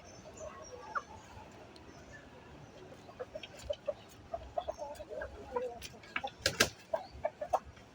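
Farm chickens clucking and squawking as they are herded into the coop ahead of rain, scattered sharp calls and bursts building toward the end over a low outdoor rumble, with brief distant voices.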